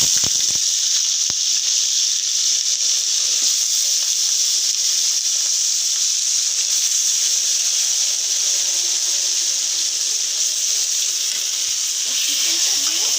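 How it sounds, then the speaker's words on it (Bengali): Salt-marinated chicken pieces frying lightly in a pan, a steady loud sizzle and hiss that holds without a break, with faint clinks now and then. "চিকেনটা দিয়ে একটু হালকা একটু সাথে ভেজে নিচ্ছি।"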